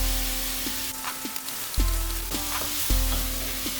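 Spinach hits hot oil in a pan of softened mushrooms, producing a loud, close, crackling sizzle that surges with each fresh handful and keeps spitting steadily.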